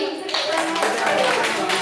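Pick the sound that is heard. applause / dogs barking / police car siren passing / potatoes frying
applause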